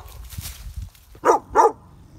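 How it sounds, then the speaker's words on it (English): A big dog barks twice next door, two sharp, fairly loud barks in quick succession after a stretch of low background rumble. "if you hear that big mean dog barking in the background"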